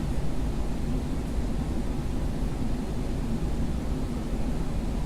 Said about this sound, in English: I'm sure my furnace is running. I'm sure you can hear that